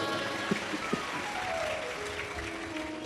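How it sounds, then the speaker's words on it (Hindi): An audience at a Shiv Mahapuran religious discourse in Pune claps throughout, a steady, fairly soft wash of applause with a couple of sharper claps early on and no talk over it. "एक बार जोरदार ताली बजाओ।"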